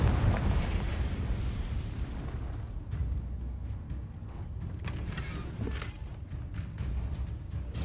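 A Confringo blasting spell detonates in the Hogwarts Legacy video game, giving a dense, rumbling explosion with a heavy low boom that fades into a steady crackling roar; no voices are heard.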